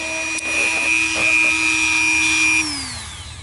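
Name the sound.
Dremel rotary tool cutting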